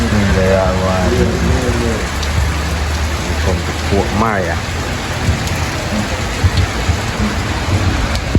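Steady rain falls in Port Maria, St Mary, a constant dense hiss of drops on surfaces filling the scene while someone talks over it near the start and again midway.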